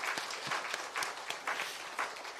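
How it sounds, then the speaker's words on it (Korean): During a Korean Sunday church service, the congregation claps in encouragement for the elders and the men's mission group, a faint, distant applause with a loose rhythmic pulse of claps. "우리 장로회 그리고 남전도회 분들에게 격려의 박수 한번"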